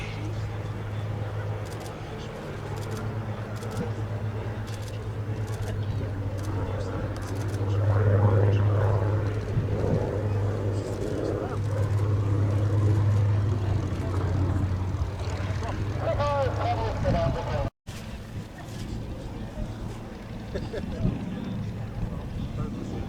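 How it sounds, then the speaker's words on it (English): Spitfire Mk5 propeller fighter in a Fly Navy air show display, its steady engine drone rising and falling as it passes, loud throughout with a brief dropout near the end. "Paul Shakespeare was flying the Spitfire for us today"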